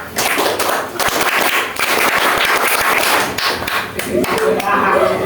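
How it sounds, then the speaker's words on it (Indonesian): Children performing the Indonesian scout clap rhythm, a quick patterned run of sharp hand claps and thuds, loud and close, with voices chanting and calling along over it. "Tepuk pramuka."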